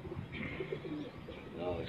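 A racing pigeon coos softly in low, murmuring pulses, faint and close, under a voice talking.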